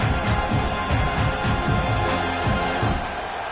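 A dense roar of a large college football stadium crowd fills the air continuously, a steady wash of many voices with rhythmic surges, no single speaker standing out.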